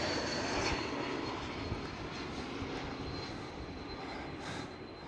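An AgustaWestland AW139 helicopter flying past at Schiphol Amsterdam, its engine a broad steady roar held at moderate distance, fading slightly toward the end.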